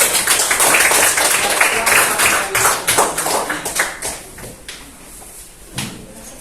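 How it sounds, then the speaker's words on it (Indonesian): A classroom audience applauds a student group: a dense, loud burst of many hands clapping that thins out and fades toward the end. "Ya, beri tepuk tangan untuk kelompok."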